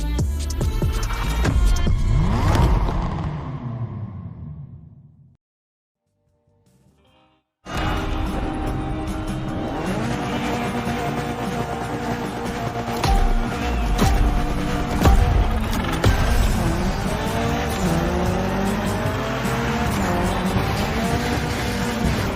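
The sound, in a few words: Mitsubishi Evo 9 gymkhana driving in video game The Crew Motorfest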